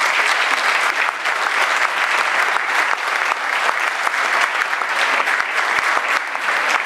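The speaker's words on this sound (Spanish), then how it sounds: "le pido un aplauso muy grande" Sustained, dense applause from a gala audience at the Hotel Ostende, loud and even throughout, with no speech over it.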